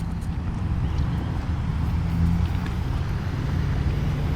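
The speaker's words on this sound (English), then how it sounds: "Like a park ranger just drove up" A park ranger's vehicle rolls up at an outdoor park, its low, steady engine rumble continuous and fairly close, with wind buffeting and faint background noise.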